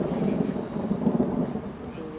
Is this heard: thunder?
yes